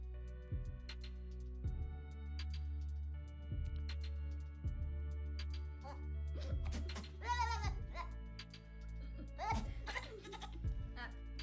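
Goat bleats mixed with laughter-like sounds recur over a steady low hum, several short wavering cries rising above the background, with a voice also talking in places.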